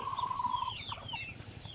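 A fighting rooster clucks and calls nearby, a short drawn-out note followed by a few quick clucks over a low background rumble.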